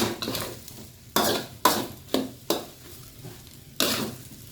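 Rice with shrimp and shrimp fat is stir-fried in a pan under a soft sizzle, with about six distinct scraping spatula strokes at uneven intervals, close and clear, with no talk.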